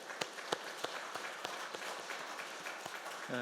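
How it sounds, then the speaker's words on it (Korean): A church congregation claps along during a Sunday worship service, sharp hand claps landing in a steady beat over a dense wash of applause, fairly distant and even, with no talk. "우리의 예배를 받으실 때 하나님께 크게 박수하시겠습니다."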